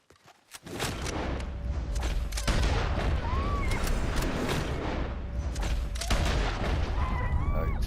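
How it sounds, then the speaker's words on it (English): Bolt-action rifle shots fired in a video game, with loud booming reports and crackling gunfire across a dense, busy battlefield mix that stays loud throughout. "Took 2 bolt action shots to burn him down."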